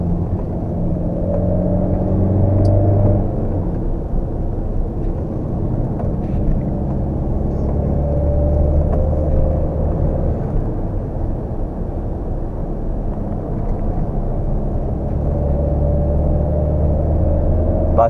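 Peugeot 607 2.2 HDi 16V diesel car climbing a hill, heard as a steady, loud low engine drone with road rumble throughout, no talking.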